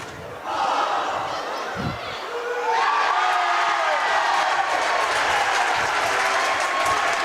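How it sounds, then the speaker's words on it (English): A crowd in a gym roars and cheers at a college basketball game between Rio Grande and Alice Lloyd College, the noise surging after a brief thump and staying loud and sustained, with shouts rising above the din. "The crowd goes wild."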